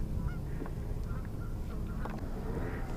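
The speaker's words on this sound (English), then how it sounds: "geese." Geese honk over the St. Croix River in Minnesota, heard from a kayak. The calls are scattered and fairly distant over a low wind rumble.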